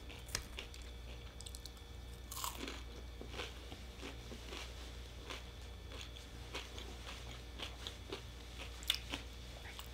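Crunchy Taco Bell hash brown being bitten and chewed close up, a steady run of soft crackling crunches and squishy mastication over low background hum, no talking.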